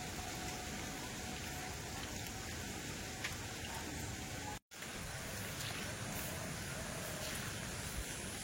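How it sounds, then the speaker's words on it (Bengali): Heavy rain pours down during Cyclone Remal as a constant dense hiss of drops on surfaces, steady and enveloping, with only a momentary break and no voices. "ঝলকে ঝলকে বৃষ্টি আসছে"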